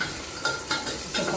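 Onion tossed into a hot pan for a chana dal and brinjal dish, giving a steady close sizzle with a few brief stirring scrapes and no voices.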